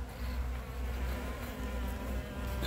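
Honeybees hum around a hive being treated and fed for winter, a dense continuous buzz of many insects close by, steady and unbroken throughout with no voices.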